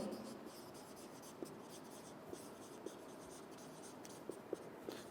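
Quiet scratchy strokes of writing on a board during a chemistry lecture, a continuous soft scraping with several small taps and clicks scattered throughout, faint and close.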